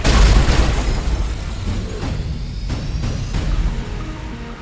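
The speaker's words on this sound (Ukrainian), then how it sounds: "Бомба пішла." A bomb explosion in an action movie trailer: a heavy, loud low boom opens, then a dense rumbling roar carries on steadily under the soundtrack.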